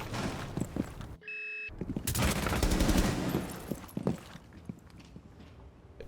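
Rainbow Six Siege gameplay with a burst of rapid automatic gunfire, followed by scattered single shots and movement clatter that trail off quieter, with a brief tonal game sound just before the burst.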